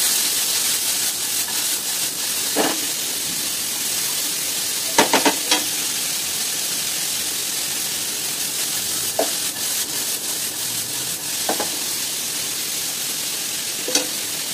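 Chopped pointed gourd and pumpkin sizzle steadily in a frying pan, with a few scattered scrapes and clinks of stirring rising above the constant hiss, no talking.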